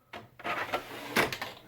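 An Epson WF-7710 sublimation printer starts a nozzle check, giving a short run of close mechanical clunks and whirring bursts from the print head and paper feed.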